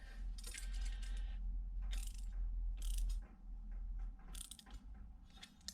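A spanner tightens a brake pipe union nut on a Peugeot 205 GTi Mi16 Clubsport project car, giving several short bursts of close metallic clicking and ratcheting with pauses in between.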